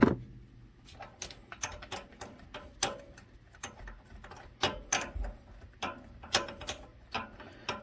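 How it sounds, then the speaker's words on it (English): Quick bursts of ratchet clicks from a 14 mm deep-well socket backing a spark plug out of a KRX 1000, arriving in short uneven runs, close and crisp, with no talking. "obviously you guys know how to unthread a spark plug"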